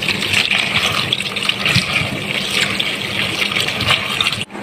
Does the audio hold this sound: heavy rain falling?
no